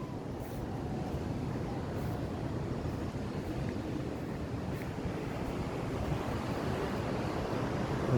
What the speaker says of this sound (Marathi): हा सगळा समुद्र इथनं खाली.